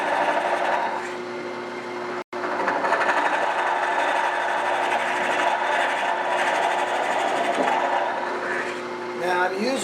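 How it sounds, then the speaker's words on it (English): Wood lathe spinning a salt pig or shaker blank while a spindle gouge cuts inside, giving a steady continuous whir and hum throughout with a brief dropout early on, under someone talking. "then I can go right on down in and use the spindle gouge again"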